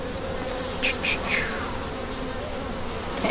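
Honey bees buzz steadily and densely inside a mating nuc hive, a close, continuous drone with occasional louder passes of individual bees.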